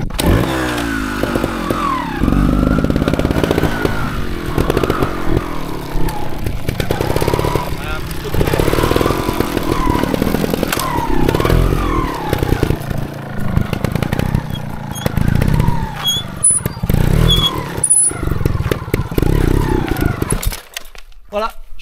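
Trial motorcycle engine revving hard in a wheelie and small jump, loud and close with rising and falling throttle bursts, mixed with people talking over the engine noise until it cuts off at the end.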